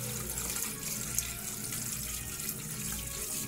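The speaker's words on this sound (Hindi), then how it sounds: "पूरे से इसको ठंडे पानी से अच्छे से वॉश करना है" Cold tap water runs steadily over boiled macaroni in a strainer, a continuous hissing splash from start to finish with no talking.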